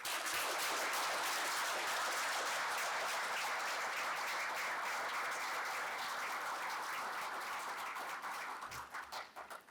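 Sustained applause from an audience honoring alumni award winners at a university awards event, dense steady clapping throughout that thins and tapers off in the final second.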